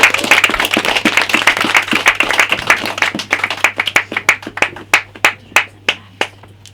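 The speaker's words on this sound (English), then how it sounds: "Round of applause for Nick." Audience applause for a spoken word performer at a poetry open-mic night, a dense burst of clapping from a small crowd that thins out into a handful of separate, sharp claps toward the end.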